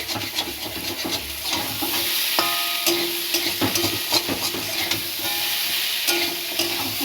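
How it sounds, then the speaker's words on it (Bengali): Taro, potato, prawns and jackfruit seeds stirred together in a pan of curry, a steady scraping and sizzling with a continuous frying hiss and repeated spoon scrapes, close and fairly loud, no talking. "আবারও নাড়াচাড়া দিয়ে সবগুলোকে একসাথে মিক্স করে নিচ্ছি"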